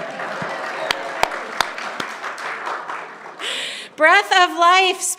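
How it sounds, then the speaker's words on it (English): An audience claps softly in a mixed, moderately sized room, with a few sharp distinct claps over a light patter, fading out before a voice starts singing. "Y'all can clap."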